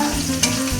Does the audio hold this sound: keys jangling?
no